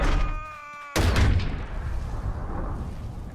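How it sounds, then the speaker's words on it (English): A boom cannon fires in the mobile strategy game Boom Beach: a short tonal game cue, then one heavy, loud blast with a low rumble that trails off over several seconds. "attack that boom cannon"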